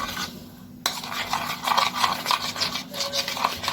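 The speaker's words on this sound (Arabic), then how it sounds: "واقلبهم كويس جدا بالطريقه دي" A utensil stirs seasoned chicken pieces with chicken stock in a bowl, giving close, uneven scraping and wet rubbing strokes in a loose rhythm after a quieter start.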